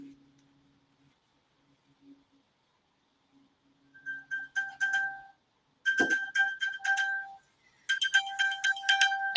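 A smartphone rings out a find-my-phone alert tone, bright repeating electronic chimes in bursts that start after a near-silent stretch with a faint low hum, loud and close.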